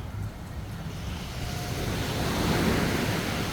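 Sea waves wash onto a beach at night in Nha Trang, Vietnam, a steady, close rushing surf that slowly swells louder over a few seconds.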